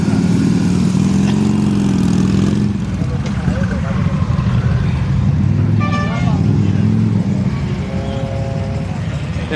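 Motorcycles and other vehicles idle and rumble at a charity motorcycle gathering in Murcia, with a horn toot, engine hum continuing throughout and people talking over the steady outdoor din.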